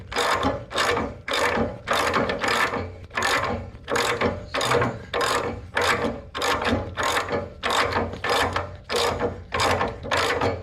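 A ratchet wrench loosening a nut on a radiator clicks in steady repeated bursts, about a dozen close, loud strokes in an even rhythm with no talking.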